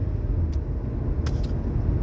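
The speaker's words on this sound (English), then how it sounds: "I am on a road test with the Chevy Malibu with the P1101 code" A Chevy Malibu with a P1101 fault code out on a road test, heard as a steady low engine and road rumble from inside the car, with a couple of brief faint ticks.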